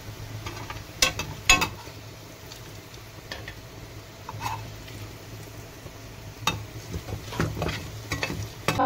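A spoon scoops fried potatoes out of a pan of hot oil, with a soft continuous sizzle under scattered scraping clinks against the metal, close and fairly quiet, with no one speaking.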